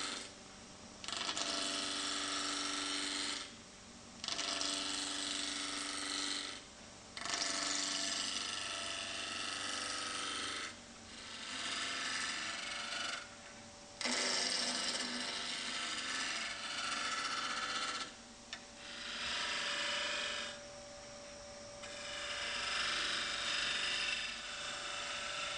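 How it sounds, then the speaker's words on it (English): Wood lathe turning a wooden blank down to round with a hand tool, a loud harsh scraping whir in repeated cuts of a few seconds each, separated by short pauses. "Switch on the lathe and turn the wood down to the round, ensuring that the minimum is removed."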